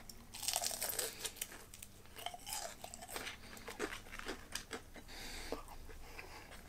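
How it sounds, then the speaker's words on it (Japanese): Large, freshly fried karaage chicken from a takeout bento is bitten and chewed close up, giving repeated crisp, crackly crunches in an uneven rhythm. "サクサク、音聞こえるでしょ。"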